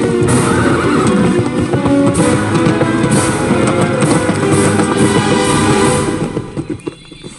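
A horse neighs loudly several times while hooves clip-clop steadily nearby, the sounds fading toward the end.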